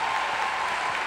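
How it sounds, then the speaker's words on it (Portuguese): An audience at an international happiness congress claps together, a short dense burst of applause that stays even and loud from start to finish. "eu queria começar pedindo uma salva de palmas para esse congresso maravilhoso"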